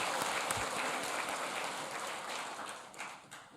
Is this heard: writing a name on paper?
no